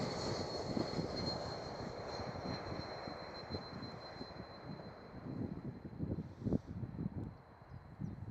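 Airbus A220 airliner approaching at Schiphol Amsterdam, a faint, rumbling engine noise that swells and fades unevenly, heard from a distance with no talk.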